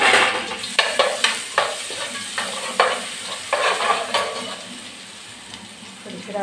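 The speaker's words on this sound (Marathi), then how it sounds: "ते चिरून जरा त्याला तळून घेणार आहे" Chopped onions with ginger garlic paste frying and being stirred in a pan, steady sizzling punctuated by a series of sharp scraping stirs that gradually soften, close and moderately loud.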